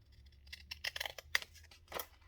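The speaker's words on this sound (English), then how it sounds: "These scissors are not the best as through any kind of thickness" Scissors snip through glued paper craft material, a series of close, crisp cuts and rustles in irregular rhythm, each snip short and clear against a quiet background.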